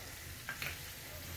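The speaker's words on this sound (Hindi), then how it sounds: "और बस ये अपना तड़का हो रहा है क्रैकल" Tadka spices crackle and sizzle in hot oil while dal dhokli is being made, a faint steady frying hiss with a couple of brief pops and a low background rumble.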